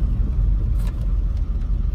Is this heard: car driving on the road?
yes